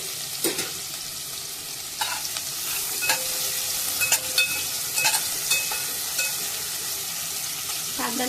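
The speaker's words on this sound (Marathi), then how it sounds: "कांदा लाल करून घ्यायचा" Chopped onion frying with bay leaf in hot oil, a continuous close sizzle broken by light stirring scrapes and a few clinks of the spoon.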